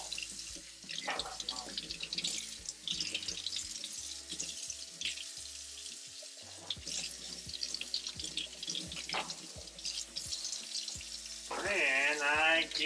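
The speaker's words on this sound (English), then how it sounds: "Then I give the ones a little quick rinse, just so they can get any chunk that it has." Running water from a tap splashes over houseplant leaves being rinsed in a sink, a steady hiss of flow with a louder gush near the end and scattered handling noises.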